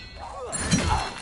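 A Confringo spell blast in Hogwarts Legacy, heard as a single muffled fiery burst with a crackling, shattering edge lasting about a second.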